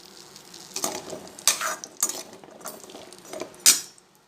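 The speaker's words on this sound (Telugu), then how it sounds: "కడాయిలో నూనె పోసి కలంకాయలు వేపుకోవాలి" Stirring and scraping in a wok with sizzling oil as karonda berries fry, several loud metallic strokes at irregular intervals over a steady hiss, close by.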